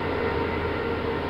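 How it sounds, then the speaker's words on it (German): A BR 120 locomotive towing a BR 101 and Intercity coaches toward Berlin Zoologischer Garten in MS Train Simulator, heard as a steady, dense rumble of a running train. The level stays even throughout, with no talk. "Eine BR 120 schleppt eine BR 101 ab mit, ja, man wird es kaum glauben, Intercity-Wagen."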